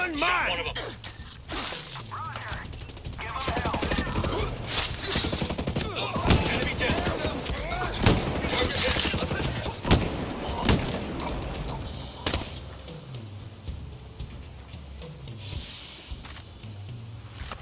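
Gunfire bursts and fusillades in the tactical shooter game Ghost Recon Breakpoint, with repeated sharp shots and whooshes amid a busy, loud mix, mostly under game sound without clear talk.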